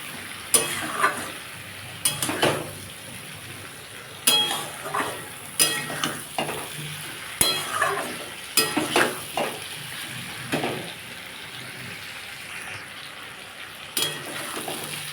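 Masala for rohu fish curry with potato and drumsticks is stir-fried in a pan, a soft sizzle broken by repeated sharp scrapes and clinks of a spatula against the pan in an irregular rhythm.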